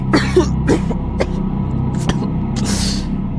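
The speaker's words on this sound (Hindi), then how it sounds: "धुआं इतना अधिक था कि उसे खांसी आने लगी।" A few short, harsh coughs burst out over a steady low hum, spaced irregularly across a few seconds.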